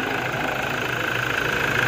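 A cold car engine idling steadily during turbo actuator repair work, a continuous rough mechanical drone with a faint high whine, close and alone.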